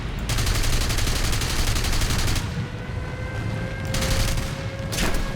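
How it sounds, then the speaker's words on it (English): Aircraft machine guns firing in the War Thunder video game, a loud continuous rattling burst that pauses briefly and then resumes, close and dense with no talk over it. "Bullet hose."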